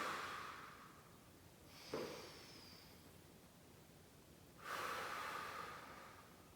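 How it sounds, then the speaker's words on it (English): Slow, deep breaths, in through the nose and out through the mouth, taken while lying down during a gentle full-body stretching routine for seniors. Two long, soft airy breaths are heard alone, each rising and fading, with a quiet pause between them. "Breathe in deep and then breathe out."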